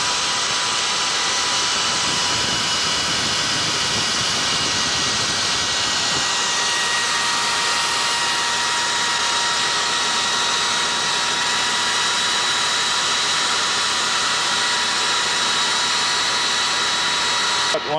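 A trepanning machine cutting a metal test plug with a carbide blade and coolant lubrication, giving a steady, loud, continuous whirring and hissing grind that persists throughout without pauses.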